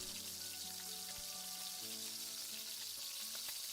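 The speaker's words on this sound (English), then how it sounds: "Then we'll stir and let it cook." A tomato and pepper blend cooks in a pot for Nigerian native jollof rice, giving a steady, continuous frying sizzle with faint soft bubbling throughout and no voices.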